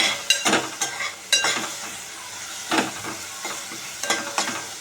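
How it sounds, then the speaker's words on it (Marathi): Finely chopped green chillies sautéing with onions in a pan, a soft continuous sizzle broken by repeated sharp scraping strokes of a spoon stirring close up. "हिरव्या मिरच्या बारीक चिरूनमध्ये याला पण थोडे परतून घेऊया"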